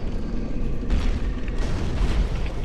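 A thrown firebomb bursts in Dark Souls 3, heard as a dull booming blast amid continuous low rumbling game noise, with a couple of brighter flare-ups partway through and no talk.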